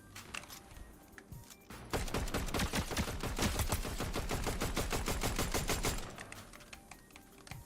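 A gun firing in the video game Fortnite, a rapid sustained burst of evenly spaced shots lasting about four seconds, loud against a quieter game background before and after.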